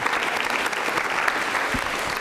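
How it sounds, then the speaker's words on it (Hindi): A school quiz show audience claps loudly for a contestant who answered correctly, a dense, sustained round of applause throughout. "माधव जी के लिए तालियां जोरों से बजाइए।"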